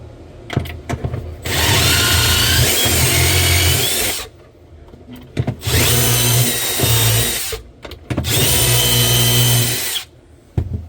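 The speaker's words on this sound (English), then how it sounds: "I can't stand drilling shelf holes so much" A power drill whirs loudly in three long bursts, each a few seconds, separated by brief pauses and small clicks, close by with no voices, drilling shelf holes into a cabinet.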